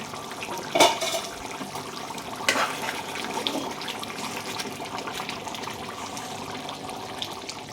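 Water poured into a pot of mutton curry on the stove, a steady watery splash and trickle with a brief louder gush near the start.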